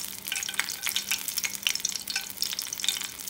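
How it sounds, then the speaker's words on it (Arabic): Lemon peel frying in hot oil: a steady, close bubbling sizzle with fine crackling pops, continuous and fairly quiet. "نحط فيها زيت طبعا كميه معقوله، وهنحط الليمون، ده قشر الليمون"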